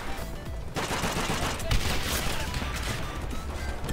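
Dense gunfire from the video game Call of Duty: World at War in a PC multiplayer match, a continuous barrage of overlapping shots and bursts running through the whole stretch with one sharper crack near the middle.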